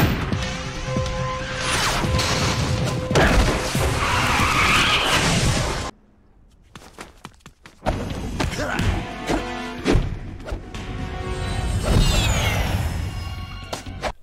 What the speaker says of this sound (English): especially when he overuses the car screeching or airplane sound effects